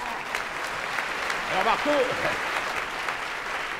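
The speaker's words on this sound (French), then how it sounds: "je vous demande de l'applaudir" Audience applause for a contortionist at a cabaret-style stage show: a steady, dense wash of clapping fills the whole stretch while a voice speaks briefly over it.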